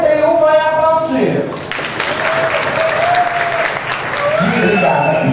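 Audience applause at a drag show matinee, a burst of clapping that rises over a tonal voice, with the performer talking before and after the clapping.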